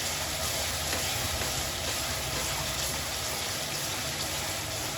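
Ginger garlic paste sautéing in a pan with onion and tomato for ghee rice, a continuous close sizzle with a faint hum underneath, steady and without speech.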